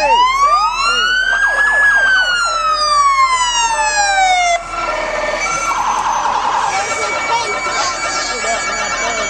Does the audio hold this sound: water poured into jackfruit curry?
no